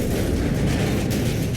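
Explosions rumble in Warhammer 40K Rogue Trader as a dense, continuous low roar with no distinct separate blasts, steady and loud throughout.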